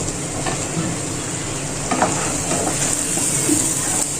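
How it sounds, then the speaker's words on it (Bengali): Pointed gourd (potol) slices fry in a pan with steady, close sizzling and a few soft stirring scrapes, with no one speaking. "পটল একদম ভাজা কমপ্লিট হয়ে গিয়েছে"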